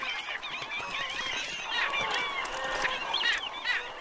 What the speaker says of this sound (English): Birds take notice too.